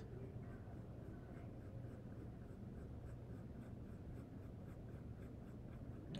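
Colored pencil, a light gray, shading lettering on paper, a steady dry scratching that runs without pause at close range, with no talk over it.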